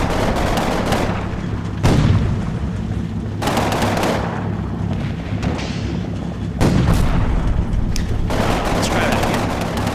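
Panzerschreck rocket fired and missing in the Combat Mission wartime video game, heard as loud booming blasts and sharp gunfire-like cracks over a dense, continuous battle din, with a few abrupt bursts standing out.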